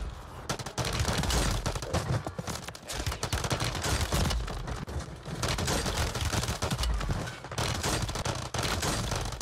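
Rapid pistol gunfire in Warzone, a dense, loud stream of cracking shots with brief gaps between bursts, overlapping with other gunfire and game noise.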